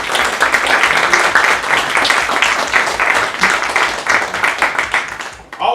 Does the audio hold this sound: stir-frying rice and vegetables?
no